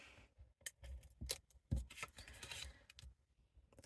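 Refilled adhesive tape gun being advanced by hand, a series of quiet, close clicks, scrapes and snips in irregular bursts.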